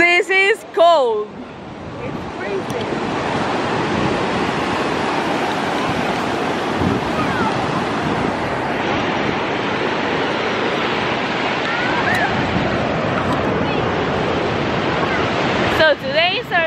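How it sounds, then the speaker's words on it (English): Pacific Ocean surf at Venice Beach roars in a steady, loud, continuous wash close by, with wind buffeting the microphone and brief voices speaking at the very start and end. "We're in Venice Beach, and here's the Pacific Ocean."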